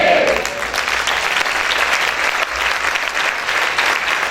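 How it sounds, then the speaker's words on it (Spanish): A church congregation claps loudly and continuously for several seconds, dense applause from a crowd with a brief voice at the very start. "¿Cuántos pueden aplaudir fuerte al Señor?"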